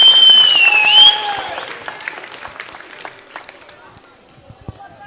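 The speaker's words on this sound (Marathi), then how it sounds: "त्यांच्यासाठी जोरदार टाळ्या वाजवा." Applause from a crowd at a civic felicitation gathering, a loud burst of clapping at the start that quickly thins into scattered claps under continuing voices and crowd noise.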